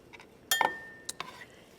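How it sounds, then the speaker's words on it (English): Whole ingredients are dropped into a glass blender jar for a fall dinner puree, giving a sharp clink followed by a few lighter taps and knocks, close and moderately loud. "So I'm going to add these ingredients to this blender like this."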